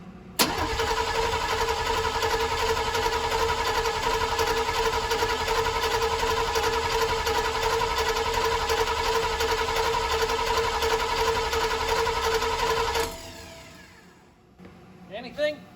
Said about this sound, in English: I'm gonna crank the engine over